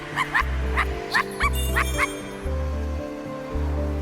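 A dog in the video game I Am Dead barks in about six sharp, evenly spaced yips over a steady looping game music bed.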